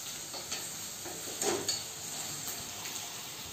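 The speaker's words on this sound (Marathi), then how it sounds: "आता इथे आपला कांदा फ्राय होतोय ना जरा ढवळून घ्यायचा." Onion and chilli fry in a pan with a dense, continuous hiss and sizzle close by, plus a few brief stirring scrapes and clinks in the middle, with no voices.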